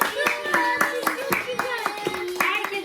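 Brisk rhythmic hand clapping at a child's birthday celebration, close and fairly loud, with voices chattering and singing along over it.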